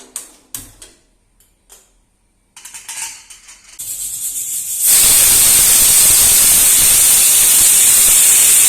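Water heats in a pot, with a few light clicks and knocks at first, then a rising hiss that becomes a loud, steady rush of boiling and steam.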